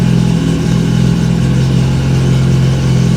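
MGB sports car engine idling, a steady, loud, low rumble with an even pulsing beat, close and continuous, with no talk over it.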